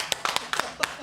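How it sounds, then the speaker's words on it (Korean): A small audience claps in a few sharp, separate bursts, close and brief, with no talk over it. "박수."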